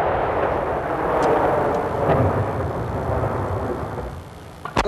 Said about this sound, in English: Those men back there are playing with their tanks.